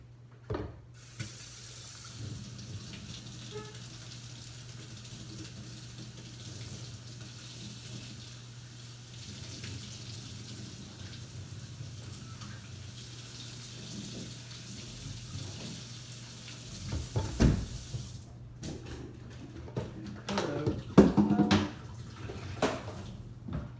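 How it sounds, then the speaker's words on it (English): A part of a compact espresso machine is rinsed under a running tap, a steady close hiss of flowing water that stops near the end and gives way to a few clunks and splashes. "let's rinse this out first"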